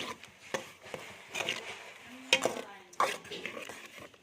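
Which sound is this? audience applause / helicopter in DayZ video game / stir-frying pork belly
stir-frying pork belly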